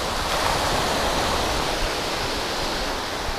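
Ocean waves roll in on Orient Bay Beach in St. Maarten, where seaweed and sand line the shore, giving a loud, steady roar of surf that stays fairly constant.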